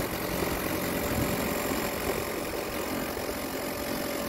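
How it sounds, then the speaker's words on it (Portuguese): An auction car's engine runs at a steady idle, a dense, even hum with faint knocking texture, somewhat distant and muffled. "existe uma filmagem do motor ligando"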